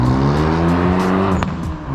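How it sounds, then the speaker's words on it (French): A Renault Mégane RS passes close by, its loud engine note holding steady and then sliding lower as it goes away. "Vous avez une magnifique Mégane RS qui vient de passer là."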